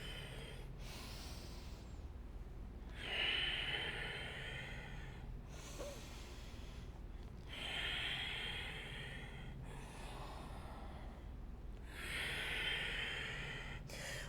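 Slow, audible breathing during low yoga lunges, with long breathy inhales and exhales alternating at a steady pace of roughly two seconds each, close and fairly soft against a quiet background hum.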